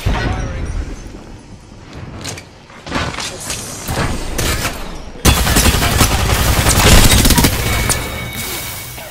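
Rapid bursts of gunfire in the Apex Legends battle royale game, loud sharp cracks in quick volleys that thicken into a dense, sustained barrage in the second half, with clattering mechanical clicks between shots.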